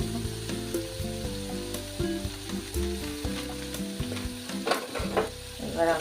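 A spiced mixture of turmeric, salt and chili sautés in a pan for bottle gourd kofta curry, sizzling steadily up close while a utensil stirs and scrapes through it, with no voices.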